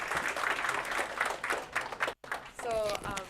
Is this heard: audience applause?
yes